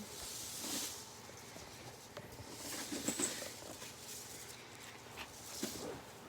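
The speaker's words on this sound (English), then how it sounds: "There's our rain stick." Rattling, pattering trickle of tiny pieces sliding through a homemade rain stick, rising and falling in soft surges, close and fairly quiet.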